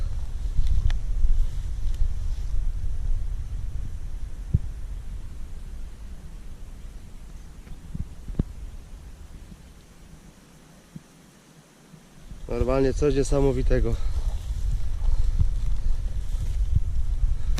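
A river rushes near an old 19th-century mill dam in wild countryside, a steady broadband roar that runs the whole time with some wind buffeting, while someone speaks briefly toward the end.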